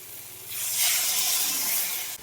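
A cauliflower and potato curry boils in a pan with a steady, loud steamy hiss that swells and holds, close up, with no talking.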